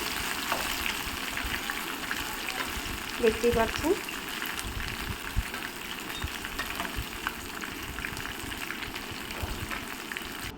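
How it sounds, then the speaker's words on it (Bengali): Steady crackling sizzle of pointed gourd fritters frying in hot oil, continuous and fairly close, with a voice talking over it. "আর উল্টে পাল্টে কিন্তু সুন্দর করে লাল লাল করে ভেজে নেব"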